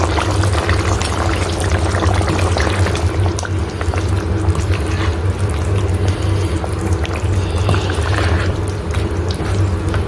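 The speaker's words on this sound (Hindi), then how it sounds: "1 कप के करीब जो क्रीम है वह इसके अंदर ऐड करते हैं और इसको अच्छे तरीके से मिक्स कर देते हैं।" About a cup of cream pours into a pan of white chicken karahi, making a steady, loud liquid rush and sizzle that continues without pause and without voices.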